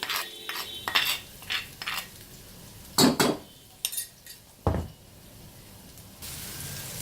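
A spoon scraping and clinking in a pan as ground paste sautés in a couple of spoons of oil for chicken spring rolls, several sharp metallic knocks with soft sizzle between, close by.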